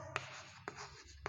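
Math numbers are written on a classroom board in short, quick strokes, with a few soft scratchy marks and sharp taps spaced across about a second, nearby and without speech.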